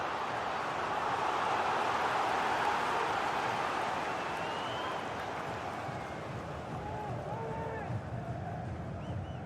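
A steady, broad roar from a stadium crowd at a Belgium vs Croatia football video game match. It builds slightly and then settles, with faint whistle-like tones rising over the din. There is no clear speech.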